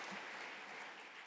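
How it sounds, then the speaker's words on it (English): Audience applause at an anniversary event of the EFTA Court, a brief dense wash of clapping heard at moderate distance with no voices over it. "I would like to again applaud to them."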